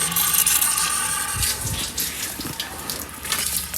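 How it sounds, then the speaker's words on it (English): Water from a 1984 Pontiac Fiero gushes and splashes steadily onto the ground in a continuous rushing flow, close and fairly loud, with a few brief thumps partway through and no talking. "Sounds like we got a leak."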